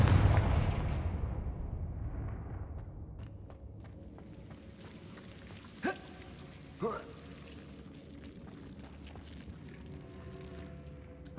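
Blasting spell cast in Hogwarts Legacy, a loud booming burst that decays over several seconds, followed by two sharp crackling impacts and a low ambient hum.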